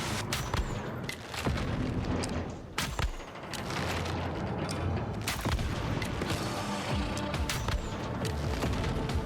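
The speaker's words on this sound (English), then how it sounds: "Oh, they're getting shot by the turrets." Turrets in Once Human fire at enemies, a dense stream of heavy booming shots and mechanical bursts that are loud and continuous, with a few sharp louder blasts standing out.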